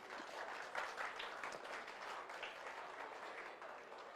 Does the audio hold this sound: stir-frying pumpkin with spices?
no